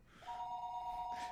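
A telephone rings in the Higurashi: When They Cry video game, one sustained electronic trill heard close and clear on its own.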